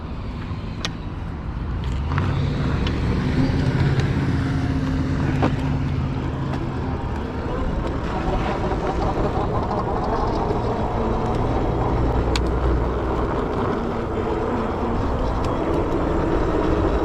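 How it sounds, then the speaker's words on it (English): Steady traffic noise from cars passing nearby during a ride on a cheap HeyBike Explore e-bike, a continuous loud low rumble with swells as vehicles go by, with no talk. "A lot of cars around in this area."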